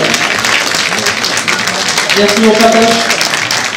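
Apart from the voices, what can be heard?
conference audience applauding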